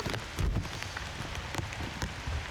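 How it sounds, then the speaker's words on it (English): Light rain falls on a golf course at SeaTac in the Pacific Northwest, a soft, continuous patter with scattered drops hitting the surface nearby and no one talking. "we can hear the rains have started to come back a little bit"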